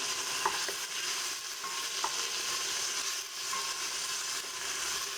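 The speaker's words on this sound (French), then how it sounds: "Vous allez mélanger le tout." Tomato and green chili being stirred in a pan over medium heat, a steady broadband sizzle with a few soft scrapes of the spoon throughout, fairly close and without voices.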